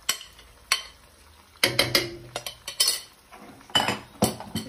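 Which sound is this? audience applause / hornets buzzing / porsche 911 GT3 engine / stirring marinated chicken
stirring marinated chicken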